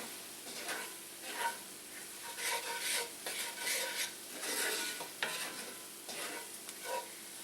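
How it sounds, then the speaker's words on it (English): Vegetables dusted with all-purpose flour sauté in fat for a chicken pot pie, giving a steady sizzle broken by repeated stirring scrapes and soft clinks of a utensil against the pan, close and moderately loud with no talking. "we want to saute it for a minute or so to kind of cook out that raw flour flavor"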